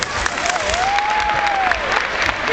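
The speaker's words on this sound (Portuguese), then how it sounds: "Bastante palmas." Audience at a clown show applauds steadily, a dense wash of clapping and crowd noise with a whistle-like tone sliding over it midway.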